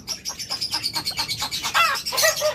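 A pet lovebird or cockatiel chirping close by, a quick run of rhythmic bright tweets that turns into louder, sharper squawky calls near the end.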